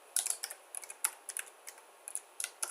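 A name being typed on a computer keyboard, a quick uneven patter of light close key clicks in short bursts, quiet with no voices.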